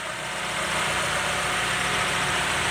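A 1994 Honda Accord Cielo engine idles in a steady, even hum with a faint mechanical whir, close and continuous, with no talking.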